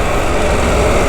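Triumph Tiger 1200 GT Explorer motorcycle engine under throttle while riding through city traffic, a loud, continuous close-up engine roar mixed with wind rush over a brief moment.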